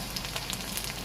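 Tomatoes sautéing in a hot pan for spicy Indian-style egg pasta, giving a steady, dense sizzle and crackle that holds at an even level throughout without any talking.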